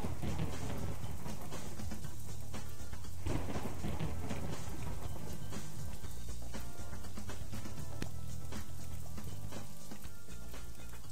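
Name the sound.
rain in video game Boiling Point: Road to Hell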